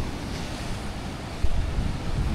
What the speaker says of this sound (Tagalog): nandito talagang hampas ng alon